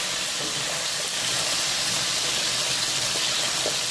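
Beef and onions sizzling in a hot pan, a continuous loud hissing fry with faint crackles, close up and steady throughout with no talking.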